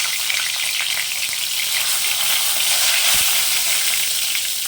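Bay leaves dropped into hot oil and ghee with a pinch of turmeric, a loud, dense, continuous frying hiss close up, steady throughout with one low knock, no talking.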